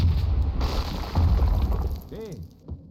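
A boiler blows up in the Max Payne video game with a heavy boom followed by breaking and shattering debris, then a ringing metallic resonance as the blast fades; a voice talks over parts of it.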